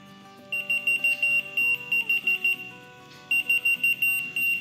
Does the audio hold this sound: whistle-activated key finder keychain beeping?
yes